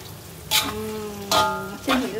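Steady sizzling of beef and vegetables stir-frying in a hot pan, with three louder bursts as more food hits the oil or is stirred, close by.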